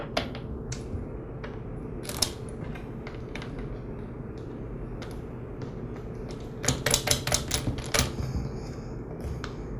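Nut and bolt fasteners are reattached to the handle on the shaft of a Ryobi string trimmer, giving scattered close metallic clicks and taps with a quick cluster of rattling clicks later, over a soft background hiss.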